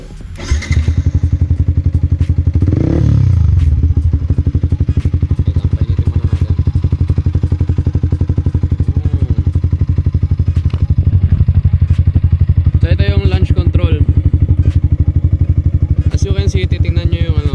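A Yamaha Sniper 155R motorcycle fitted with a UMA M9 exhaust revs loudly up close, with a sharp throttle blip and sustained high revs climbing toward 7,000 RPM, then further blips near the end.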